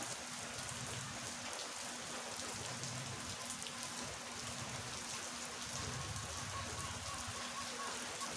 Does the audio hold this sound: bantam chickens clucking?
no